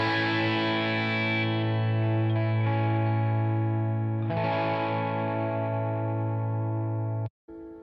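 A single guitar chord strummed once and left ringing, with a second strum partway through, then cut off abruptly at the end.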